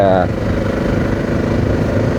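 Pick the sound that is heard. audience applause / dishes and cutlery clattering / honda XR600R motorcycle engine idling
honda XR600R motorcycle engine idling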